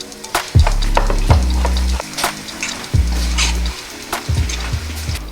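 Tomatoes are tossed into a hot pot of vegetarian chili with onions and jalapenos, setting off loud close sizzling bursts alongside repeated heavy knocks and scrapes of a spoon against the pot.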